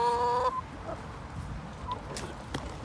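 Chickens pecking at a square bale of grass: a short loud cluck or squawk at the start, then faint scattered clucks and rustling pecks close by over steady outdoor background.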